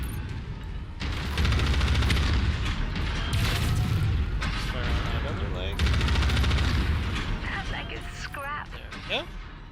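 Gunfire from a video game raid, heard as a dense, sustained burst of rapid shots and booms that fills the clip, with mechanical clanks near the end.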